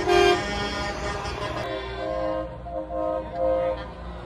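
A truck air horn blares at a night light parade at the 2023 Richard Crane Truck Show. One loud, sustained, harmonically rich blast is followed by several softer tooting pulses as it fades.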